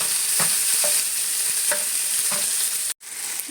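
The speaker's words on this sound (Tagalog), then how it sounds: "Gisa ng bawang. At saka sibuyas." Garlic and onion sauté in a hot pan with a continuous sizzle. A spatula scrapes and stirs now and then through the frying, and the sound cuts out briefly near the end before resuming.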